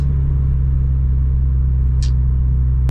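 A Mazda MX5 cruising along a Welsh country road, heard as a steady low engine and road rumble from inside the car, with one brief hiss or swish partway through.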